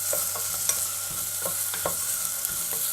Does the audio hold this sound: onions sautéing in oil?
yes